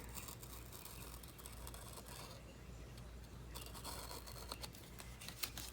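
A craft knife slices through old 1963 magazine paper in quiet, close scratchy strokes and small rustles, with a faint tap near the end and no voices.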